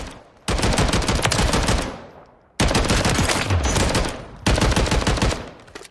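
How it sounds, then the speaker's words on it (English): An ACR rifle converted to full auto and chambered in 6.8 SPC fires three loud, close bursts of rapid automatic gunfire, each lasting one to two seconds, separated by short gaps. "full auto ACR."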